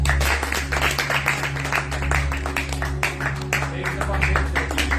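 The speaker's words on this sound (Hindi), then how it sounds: "मैं एक दफा फिर से रिक्वेस्ट करूंगा कि मेरे लिए ताली बजाई जाए।" Audience clapping at a church gathering, dense rhythmic claps over a steady low hum, continuous and fairly loud, with voices mixed in.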